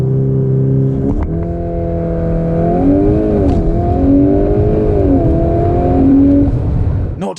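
A VW Golf R Mk 8.5 accelerates hard from a standstill to 60 mph, its engine note rising in pitch through several gear changes, loud and steady from inside the cabin, with a brief pause between shifts.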